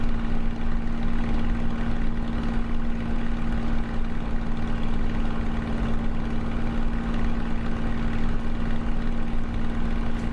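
A Spitfire's propeller engine drones steadily in flight in a flight simulator, a loud, constant, unbroken hum with a low steady tone and no talk over it.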